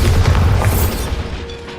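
A Bombarda spell explosion in Hogwarts Legacy, a single heavy, close boom that rumbles and fades over under two seconds, with no talk.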